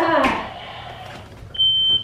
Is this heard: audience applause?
no